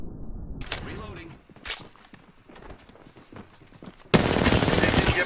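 Enemy gunfire in a video game firefight: isolated sharp shots early on, then a loud, sustained burst of rapid fire, with players talking between the shots.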